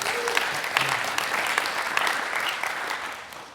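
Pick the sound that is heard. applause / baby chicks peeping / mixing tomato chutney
applause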